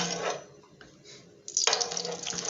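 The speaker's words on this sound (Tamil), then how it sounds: "தேவையான அளவுக்கு எண்ணெயை ஊற்றிக்கிறோம்" Oil poured onto a hot tava, a brief liquid splash giving way to a sudden bright hiss and sizzle that stays loud and close to the end, no voices.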